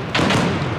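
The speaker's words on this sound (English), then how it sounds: "Nades coming." Grenade explosion in a competitive first-person shooter match, a single dull thud with a short broadband burst, moderately loud and close, fading into a brief rumble.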